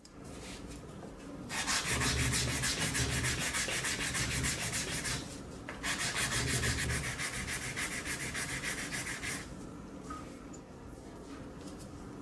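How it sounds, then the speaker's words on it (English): Sandpaper rubbing against a handmade circular wooden xylophone bar, two long sustained bursts of steady abrasive scraping, fairly close and loud, with brief pauses between strokes and a quieter stretch at the end. "After sanding the top and bottom, let's move on to sanding these areas slightly as well."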